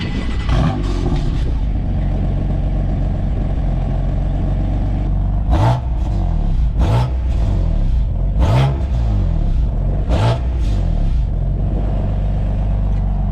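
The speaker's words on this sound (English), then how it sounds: "So that's with the valves closed." BMW M4 CS with its exhaust valves closed, idling with a low rumble and then blipped in four sharp, loud revs spaced a second or two apart, each rising and falling quickly.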